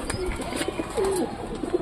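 Pigeons coo softly nearby, a few low throaty calls against quiet background noise.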